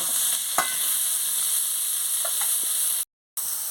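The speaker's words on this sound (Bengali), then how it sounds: "দিচ্ছি পটলটা দিয়ে ভালো করে ভেজে নিচ্ছি" Pieces of pointed gourd fry in hot oil with a steady, even sizzle, and faint stirring clicks sound now and then. It is close and continuous, with a brief dropout near the end and no talking.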